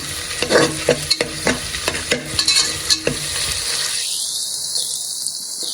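Eggs frying in a pan for egg biryani hiss steadily, with repeated sharp scraping stirs through the first few seconds before the sizzle settles into a quieter, even hiss.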